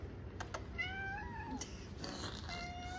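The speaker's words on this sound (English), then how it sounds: "You gonna meow?" A cat gives a few short, rising meows at close range, with quiet background noise between them and no talking.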